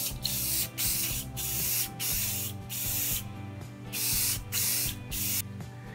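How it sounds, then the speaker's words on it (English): Light coats of Krylon Clear gloss sprayed from an aerosol can onto a wooden plaque in bursts of loud, close hissing, roughly six sprays of about half a second each separated by short breaks. "I just need to apply a few light coats of Krylon Clear"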